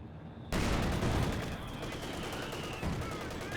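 MG42 machine gun in Company of Heroes 2 firing a short burst that starts abruptly and is followed by dense, continuous battle gunfire with other weapons crackling in the background, loud and close.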